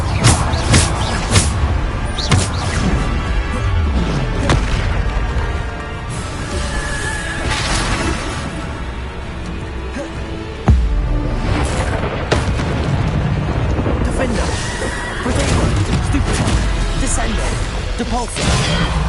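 Bombarda spell blasts in the Hogwarts Legacy video game, with repeated booming explosions and crashes amid combat noise, layered under a voice calling out spell names.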